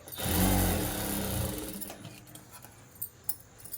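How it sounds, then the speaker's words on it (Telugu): A sewing machine stitches a straight seam on the front part of a princess-cut blouse, a loud close burst of whirring that stops after about two seconds, followed by a few faint clicks. "కింది భాగం అనేది స్ట్రేట్గా ఒకటి కుట్టేసుకోవాలండి బట్ట కదలకుండా పెద్ద కుట్ట ఒకటి వేసుకోవాలి"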